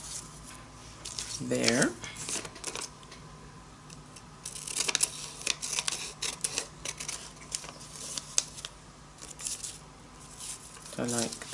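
Scissors snip through a journal page in a few short, crisp cuts with scattered rustling between them, close and fairly quiet, while someone speaks briefly.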